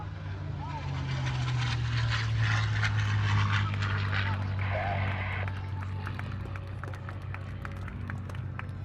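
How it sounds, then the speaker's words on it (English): A P-51 Mustang flies at the Columbus, Ohio air show, its steady low engine drone carrying loud and continuous across the crowd as it passes, with scattered audience noise and clapping around it. "A P-51 Mustang."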